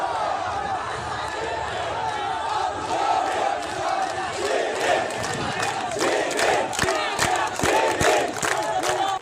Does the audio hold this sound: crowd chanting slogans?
yes